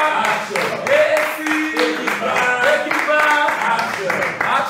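Members of an audience clap in a steady rhythm beneath voices that sing or call out, their claps mixed into the busy crowd sound.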